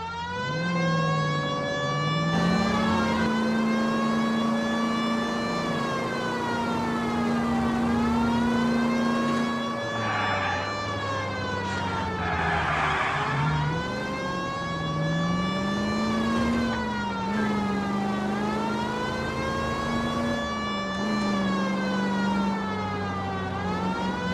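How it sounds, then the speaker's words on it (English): A police car siren from the video game L.A. Noire wails steadily, loud and close, rising and falling in long sweeping cycles over a low engine rumble for the whole stretch, with no voices. "We have a siren."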